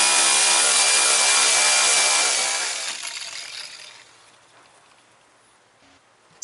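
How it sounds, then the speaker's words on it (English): A power grinder works on damaged areas of a canoe hull, a loud, close, high abrasive whine that holds steady for a few seconds and then winds down and fades to near quiet. "I'll grind out the other damaged areas too, so I can mix the epoxy all in one shot."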